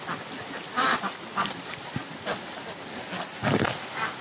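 Ducks quack in scattered bursts, several birds calling irregularly at close range over a faint background hiss.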